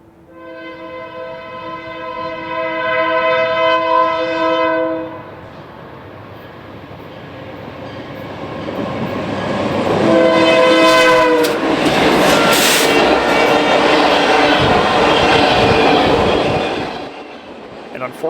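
At night in Gilman, Illinois, an 81-car Canadian National freight train sounds a long chorded horn, then passes close with a swelling roar, a second horn blast and loud rumbling wheels that fade toward the end.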